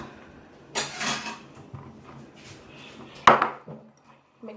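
Watermelon and Cheetos being mixed in a bowl: scattered clinks and scrapes of a utensil against the dish, with one sharp louder knock near the end, amid quiet pauses.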